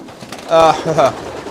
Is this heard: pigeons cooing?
yes